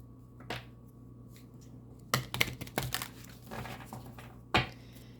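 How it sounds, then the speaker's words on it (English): An Alchemical Egyptian oracle card deck being shuffled, giving a few sharp riffling snaps and papery crinkles in short bursts separated by quiet gaps, close and fairly soft. "One more shuffle."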